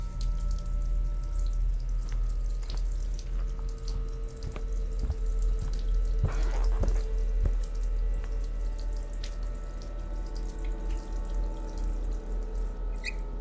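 In the game Lost Luminosity, a running faucet pours continuously, a steady close splashing hiss with occasional faint drips and clicks, and no voices.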